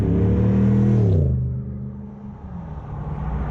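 Morgan Aero 8 SuperSports with automatic gearbox driving in traffic past a pub, engine note climbing then dropping away as it eases off, settling into a low steady rumble.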